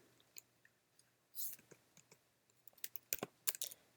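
Typing on a computer keyboard, scattered quiet key clicks picking up into a faster cluster of sharper taps near the end, close but soft.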